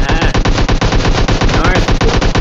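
Dense, continuous automatic gunfire from the PUBG Mobile battle royale game, loud rapid bursts repeating in a steady rhythm for the whole stretch.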